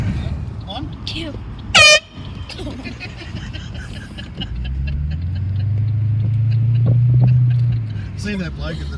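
An air horn blasts from a car driving past, one very loud, short harmonic burst near the start, followed by the car engine rumbling and swelling close by, with people talking around it.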